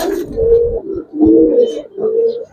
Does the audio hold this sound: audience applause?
no